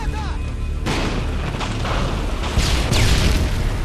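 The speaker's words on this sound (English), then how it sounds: "Granada!" A grenade detonates in a hardcore search-and-destroy match of a first-person shooter, a loud booming burst followed by rolling rumble and further bangs over busy gunfire noise.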